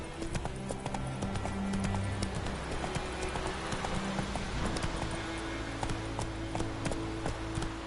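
Roach the horse from The Witcher gallops in a quick, rhythmic clip-clop of hooves that stays steady throughout, fairly faint, with brief speech.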